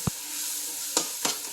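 Masala of garam masala and a little coriander powder frying in hot oil in a pan gives a soft, steady sizzle, broken by a few short scrapes or clinks as it is stirred.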